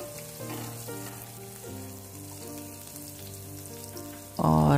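A pinch of asafoetida sizzles in hot oil in a pan for spiny gourd sabzi, a steady hiss of frying running beneath louder tonal music, with a sharp burst of noise at the very end.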